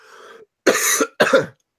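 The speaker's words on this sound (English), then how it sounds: "I've got a cold, so I'm going to cough a lot today" Two sharp, close coughs from a person with a cold in quick succession, preceded by a short breathy vocal sound.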